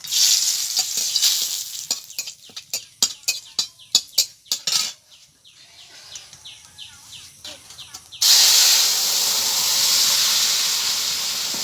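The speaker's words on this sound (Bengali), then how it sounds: "দিয়ে দেবো তেজপাতা" Sharp sputtering pops and crackles burst in quick succession, then a loud, steady sizzle takes over as bay leaves hit the hot mustard oil, close by.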